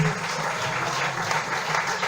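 A church congregation claps steadily and fairly loudly for Jesus, a dense continuous patter of many hands with no pauses.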